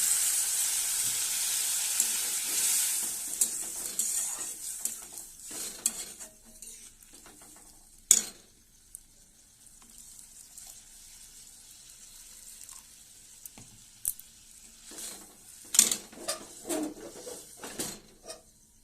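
Fish curry (macher jhal) with water just added simmers and sizzles in the pot, a steady close hiss with a few sharp clinks and stirring scrapes scattered through, no voices.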